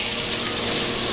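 Onion, tomato and cashew pieces frying in a pan for butter chicken masala, giving a steady close sizzle that runs evenly throughout with no talk.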